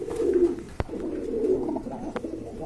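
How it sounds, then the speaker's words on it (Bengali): A pair of pigeons at a pigeon market coo in low, continuous murmuring tones, close by, with one sharp knock partway through and no talk. "ভিউয়ার্স এক জোড়া কবুতর দেখতে পাচ্ছেন এখানে"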